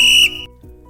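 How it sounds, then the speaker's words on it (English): A crossing guard on an island street blows a single sharp, loud whistle blast that stops abruptly, followed by a brief quiet tail. "Miss Ellaby, the Birdwell Island crossing guard, blew her whistle."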